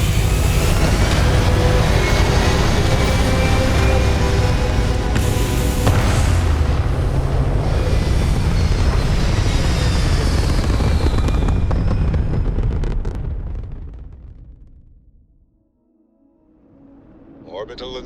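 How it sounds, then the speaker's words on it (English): Spaceship thrusters fire in Starfield, a loud, sustained low roar with rumbling booms that holds steady for about thirteen seconds before fading away, then a faint swell returns at the end. "All thrusters firing."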